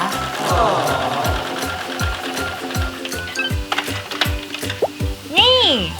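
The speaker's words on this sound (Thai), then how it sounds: "อันนี้ก็เย็บยาวๆไปได้เลย" A sewing machine runs a long straight seam through fabric scraps for a cloth glass strap, its steady mechanical whir continuing beneath a voice talking.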